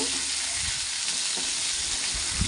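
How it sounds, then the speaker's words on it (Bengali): Cut potatoes fry in hot oil for a catfish (magur) curry, giving a loud, steady, close sizzle throughout with a few soft stirring scrapes. "তারপর ওই তেলের মধ্যে কেটে রাখা আলুগুলো দিয়ে দিলাম। আলুগুলো দেওয়া হয়ে গেলে একটু নাড়াচাড়া করে"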